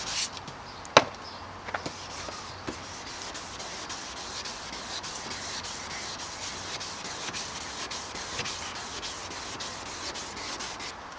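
A cloudy car headlight wet sanded by hand with sandpaper under moderate pressure: a steady, close, gritty rubbing that continues throughout, with a few sharp knocks near the start.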